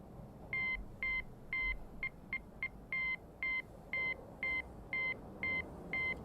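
A series of short electronic telephone Morse code tones in Call of Duty Zombies, some longer and some clipped short, sounding in an uneven beeping pattern.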